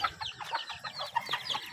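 A mother hen and her chicks cluck nearby, with soft low hen clucks pulsing beneath a busy stream of high chick peeps in quick succession.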